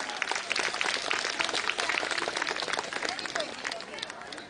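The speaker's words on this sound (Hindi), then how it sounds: "एक बार जोरदार ताली।" Crowd at a Jhuggi Samman Yatra political rally breaking into loud, dense applause that keeps up steadily for the whole stretch, with a faint murmur of voices mixed in.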